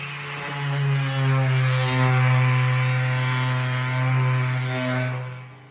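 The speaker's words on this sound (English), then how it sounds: "we switched to an orbital sander to save time" An orbital sander runs steadily while sanding a floor surface in a Japanese tatami room being renovated after termite damage, a loud continuous motor drone with a strong low hum that swells slightly and fades near the end, with no voices.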